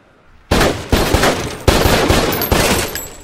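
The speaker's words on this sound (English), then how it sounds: "Who are you shooting at?" Gunfire in the 2007 action movie The Bourne Ultimatum: four loud, sharp bursts of shots spaced under a second apart, each trailing into echoing reverberation, with no talk.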